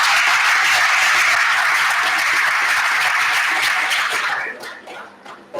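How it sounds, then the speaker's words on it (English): Studio audience at a radio quiz competition applauding the contestants, a dense steady wash of many hands clapping for several seconds before fading into scattered claps near the end. "Please clap for them."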